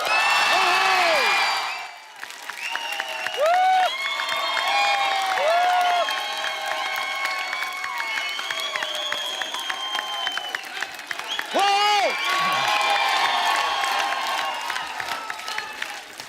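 Studio audience applause and cheering welcoming Salman Khan on The Kapil Sharma Show, loud clapping with whoops and shouts, a brief dip near the start, then bursts of cheering over continuous claps.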